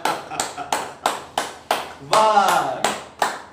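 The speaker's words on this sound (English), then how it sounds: "The simple way of clapping is this: finger to finger, palm to palm." Laughter yoga clapping, finger to finger and palm to palm, gives a steady run of about ten sharp, close hand claps in even rhythm, with a voice counting along over them.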